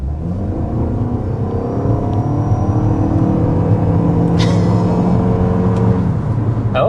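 A 2026 Toyota RAV4 XSE with all-wheel drive launches hard in sport mode, its engine droning loudly and steadily as it pulls from inside the cabin.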